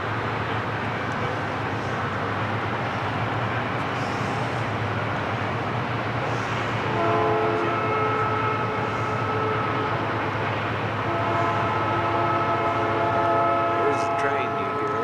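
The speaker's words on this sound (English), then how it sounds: "There's the train you hear." A train passes in Texas with a steady rumble of rail cars, and a sustained horn blows partway through, loud and continuous over the background.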